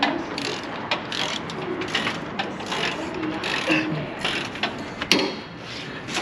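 A wrench works on motor mounting bolts, with close, faint ratcheting clicks and metallic handling noises coming in short bursts over a busy shop background.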